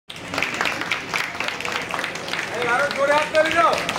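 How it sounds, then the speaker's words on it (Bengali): An audience claps at a blood donation camp in Ward 9 of Bidhannagar Municipal Corporation; the dense, steady applause runs through the whole stretch while a voice speaks over it toward the end. "সবাই একটু জোরে করতালির মাধ্যমে এই সুন্দর মুহূর্তটা"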